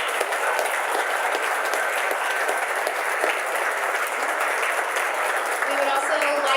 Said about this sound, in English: Can we get a round of applause for our sponsors?